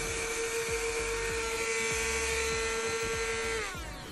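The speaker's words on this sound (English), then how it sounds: "this mini vacuum is extremely noisy" A small handheld mini vacuum cleaner runs loudly and steadily with a high, whining motor tone, then winds down near the end as it switches off.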